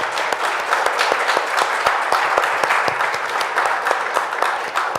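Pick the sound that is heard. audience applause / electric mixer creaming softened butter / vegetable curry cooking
audience applause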